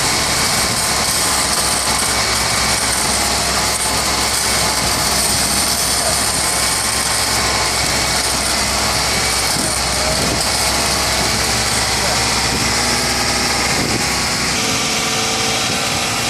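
A car engine holds a steady, raised rev at 2,000 RPM for a long stretch, loud and close, with a constant droning hum and no voices.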